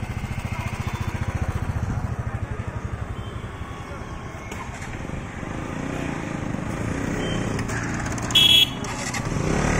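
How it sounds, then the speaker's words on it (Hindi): Motorcycles and scooters lined up for a Republic Day group ride, engines idling and revving nearby in a steady drone, with voices talking over them and a short horn toot near the end. "सब लोग एक एक बाइक में, पहले बाइक उसके बाद स्कूटी लाइन पर लगा हुआ है"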